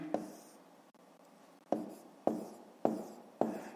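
Pen or chalk strokes writing out a math answer for a fifth-grade exercise, several sharp taps and scratches spaced about half a second apart after a pause, close and fairly quiet.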